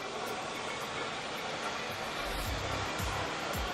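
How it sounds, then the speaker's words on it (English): A HAKO Scrubmaster B30 scrubber drier washing and drying a floor, its squeegee bar sucking up water with a steady loud rushing hiss and faint low thumps underneath. "as I push it forward there, it goes back to the squeegee bar catches it and sucks it up"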